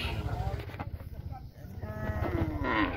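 Cattle at a busy Bangladeshi Eid livestock market in Paragram Hazratpur, lowing through a dense crowd. A couple of drawn-out moos rise over constant chatter and market noise.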